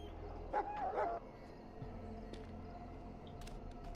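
A dog in the video game Dragon Age Origins gives a couple of short yips or barks close up, followed by quieter game ambience with no talking.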